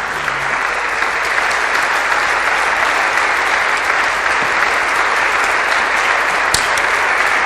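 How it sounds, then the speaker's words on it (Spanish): Steady, loud applause from a church congregation during a sermon, a dense continuous wash of clapping that holds evenly throughout with no talk over it. "Le damos un aplauso a Cristo."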